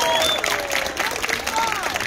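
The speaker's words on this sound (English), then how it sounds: "Yeah, you can clap." A crowd at a street entertainer's show during the Edinburgh Fringe Festival in Scotland claps in a thin, continuous patter, mixed with talking and whistle-like tones throughout.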